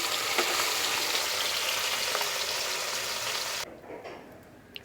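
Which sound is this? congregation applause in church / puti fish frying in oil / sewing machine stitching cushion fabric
puti fish frying in oil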